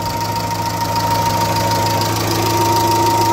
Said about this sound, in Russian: Двигатель работает неплохо.